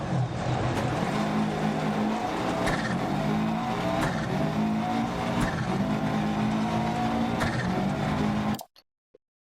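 A rally car slides through a corner on a Finnish gravel stage in Dirt Rally 2.0, its engine revving loud and steady with gear shifts and tyre scrabble, then cutting off abruptly into near silence and a few faint clicks.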